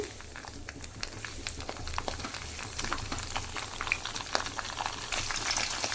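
Dal, mustard seeds, cumin, curry leaves and peanuts fry in hot oil as a tempering for pulihora prasadam, giving a soft, steady crackle with scattered pops throughout, fairly faint and without any talk.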